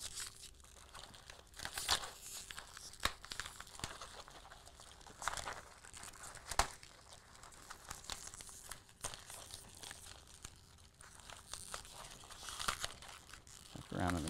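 Z-Pak trauma dressing folded and tucked into a trauma kit pouch, heard as close, quiet crinkling and rustling of packaging and fabric with intermittent sharper crackles throughout.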